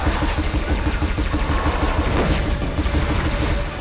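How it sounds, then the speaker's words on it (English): Rapid, loud barrage of heavy weapon fire from a Ravager machine's mounted cannon in the video game Horizon Zero Dawn Remastered, with evenly spaced repeated shots over constant battle noise and no talk. "That's a Ravager cannon for you."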